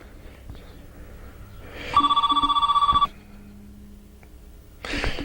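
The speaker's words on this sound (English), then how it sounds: "Just then the phone rang." A telephone bell rings in one loud burst lasting about a second, with a steady electronic-sounding trill that stops abruptly. The room around it is quiet, and the ring comes during a 1998 broadcast about Montreal's new baseball stadium.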